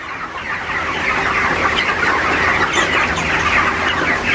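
A large flock of broiler chickens on a farm, about 1,530 birds fed fermented maize, makes a dense, continuous murmur of overlapping clucks and chatter, steady and fairly loud throughout, with no voices.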